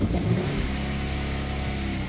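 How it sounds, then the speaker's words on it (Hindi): A Ford F-150 engine revs steadily and loudly, a dense mid-pitched roar that holds throughout with no pauses, heard up close with no talking during the repair. "अभी आप रेस देखेंगे इस गाड़ी की"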